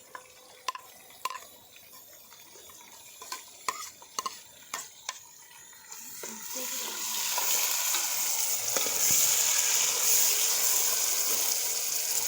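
Tomatoes and green chilies hit hot oil in a kadai for chicken kadai cooked outdoors in the fields; a few sharp utensil clicks give way to a loud, steady sizzle that builds and holds, with no talk.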